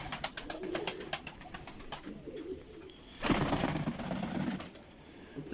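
Pigeons coo softly in low repeated murmurs, with a burst of fluttering or rustling midway and steady background noise throughout.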